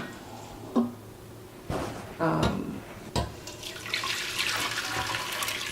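Chicken stock from an Instant Pot pressure cooker is poured through a strainer into a wide container, with splashes and clinks near the start and a steady gurgling pour building toward the end.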